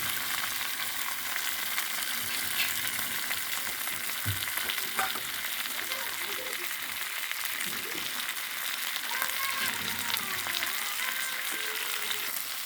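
Eggs frying with red leaves in a pan give a steady, close sizzle that runs the whole way through, with a few faint utensil scrapes and no talking.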